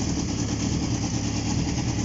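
A Honda CB750 motorcycle with messy wiring and a bridged ignition idles steadily, a continuous low rumble at moderate level with no breaks or revving.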